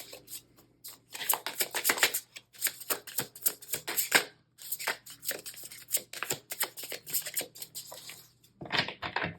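A deck of tarot cards is shuffled up close in a quiet room, with repeated quick riffling and slapping bursts separated by short pauses.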